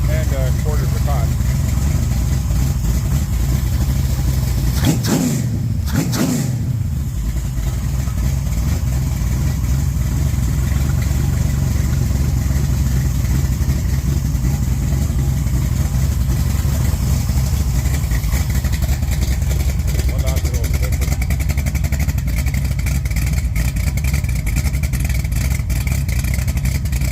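A Mopar stroker 360/406 V8 with Speedmaster heads and rockers and a Comp Thumper cam runs on a dyno, a loud, steady rumble throughout with a brief disturbance early on, and no talk over it.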